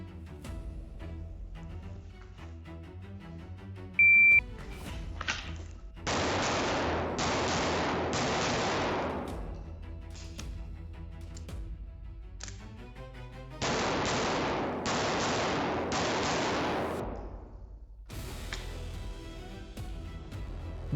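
Pistol shots from a shooting drill fire in quick clustered strings of sharp, loud bangs. A short timer beep comes first, and a pause separates two main volleys.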